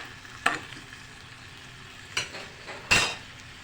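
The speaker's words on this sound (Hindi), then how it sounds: "आलू को हमें फ्राई करना है" Potato wedges frying in hot oil give a steady sizzle, broken by three sharp stirring scrapes, one near the start and two close together later.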